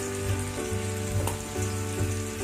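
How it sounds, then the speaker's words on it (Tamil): Fish frying in a pan for a fish curry, a loud continuous close sizzle with a low steady hum underneath and occasional faint stirring. "இப்போ அடுத்த ஈடு மீனை அது மேலே வச்சு இதையும் வறுத்து"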